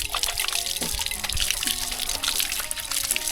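A gourd dipper scoops cool water in a traditional Ta Oi village in Laos. Close, continuous splashing and trickling is heard throughout.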